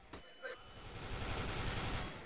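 Rapid automatic gunfire shooting through a wall in a first-person shooter game, a sustained burst of quick, even shots at moderate distance, with brief talk at the start.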